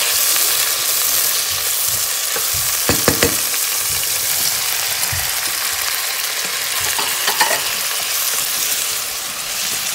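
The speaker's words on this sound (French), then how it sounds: "je mélange tous mes légumes et je fais revenir" Mixed vegetables for lasagne sautéing in a pan, a loud continuous sizzle with a few sharp utensil scrapes and clicks as they are stirred, no voices.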